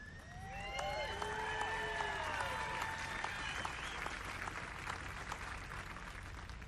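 An outdoor audience at a US Air Force birthday tattoo applauds and cheers for the Honor Guard drill team, a dense sustained clatter of clapping with whistles rising early, then settling into steady applause.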